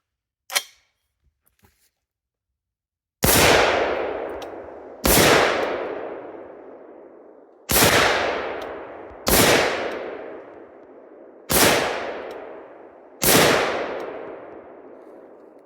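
Six loud AR-platform rifle shots, alternating 7.62x39 Russian and 7.62 Yahweh rounds from one magazine, each a sharp crack with a long ringing decay, spaced about two seconds apart after a faint metallic click.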